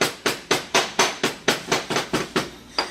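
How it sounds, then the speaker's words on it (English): A hammer strikes a sand casting mold for a ring band in a quick, steady rhythm, about a dozen sharp taps in a row, close and loud. "start hitting it with a hammer"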